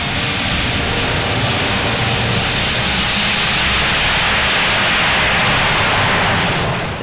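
PT-17 biplane engine in flight, a continuous loud droning roar with heavy wind rush, steady and unbroken throughout, heard from inside the open cockpit.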